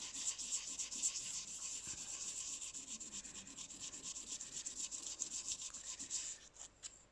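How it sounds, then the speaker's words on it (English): Hand sanding of hardened Milliput epoxy putty: continuous close, soft rasping strokes in an even back-and-forth rhythm, moderately quiet and steady, easing off at the very end. "you're going to be sanding for a very long time"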